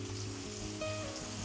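A large chopped tomato fries in a pan for a spicy chicken gravy, a dense steady sizzle up close over a brief moment.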